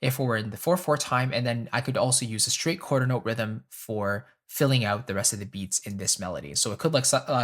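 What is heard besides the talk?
No everyday noises stand out.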